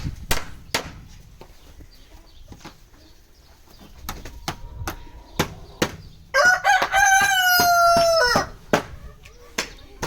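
A rooster crows on a farm, its loud harmonic call rising clearly for about two seconds midway, amid scattered knocks and light clucking from chickens in a coop.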